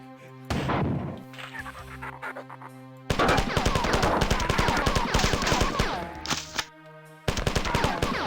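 Rapid bursts of video-game gunfire, a weapon spitting bullets in quick sequence, loud and close, with dense repeated shots in long runs broken by short pauses.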